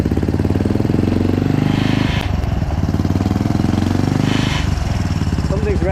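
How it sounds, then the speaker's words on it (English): A rebuilt Kawasaki KLF 300 ATV engine runs steadily up close, chugging with a fast even pulse and briefly dipping in pitch twice. "after we build the engine, it sounds good, guys"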